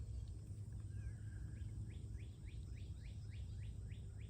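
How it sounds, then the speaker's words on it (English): Birds sing outdoors near a pond on a morning, faint and distant, with a repeated series of quick chirps rising over a steady low rumble of background noise. "Hope you can hear the birds."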